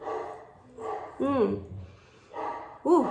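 Dogs bark in short bursts, several sharp yelps at moderate distance, mixed with a woman's nearby speech and exclamations.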